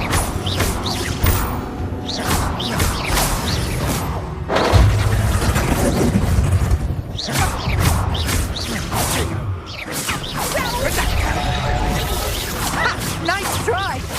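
Spell-casting effects in Hogwarts Legacy, bursts of whooshes, crackling blasts and booms in quick succession, loud and dense, mixed with shouted spell incantations and game music.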